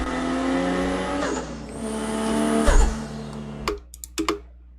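A car with a Toyota 2JZ engine revs loudly up close, the note climbing and surging as it builds, then cutting off into sharp pops and crackles over the last second.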